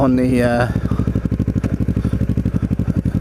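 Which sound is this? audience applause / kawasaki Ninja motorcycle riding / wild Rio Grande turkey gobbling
kawasaki Ninja motorcycle riding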